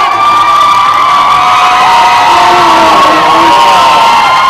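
A large university audience at a communication arts theatre show cheers and screams loudly and continuously, high-pitched shrieks and whoops blending into one sustained roar.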